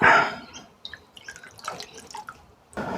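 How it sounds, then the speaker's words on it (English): Water is poured, then drips in a run of small, close, distinct drops with short pauses between them, with no voices heard. "I'll just pour some other water down it"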